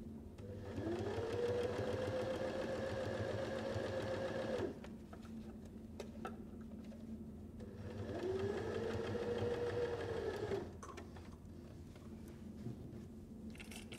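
A sewing machine stitches a fabric face mask in two long runs of steady, even whirring, each ending in a pause, close and clear with the motor's pitch rising as it speeds up and no talk.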